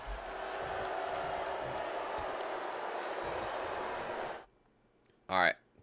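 A video game arena crowd in WWE 2K23 roars steadily after a wrestler's taunt, a loud sustained wash of cheering that cuts off abruptly, followed by a short rising electronic sound.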